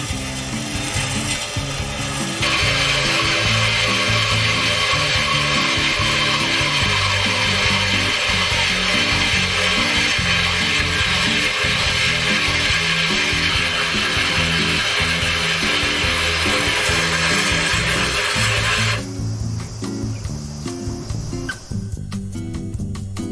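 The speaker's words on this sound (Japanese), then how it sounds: "に電動ドリルを当てて、力を入れすぎないように注意しながらダイヤモンドコアドリルでガラスを削っていきます。" An electric drill with a diamond core bit grinds through aquarium tank glass in a steady, loud, continuous whine with a rattling mechanical texture. It runs for most of the clip, then stops, and there is no talk.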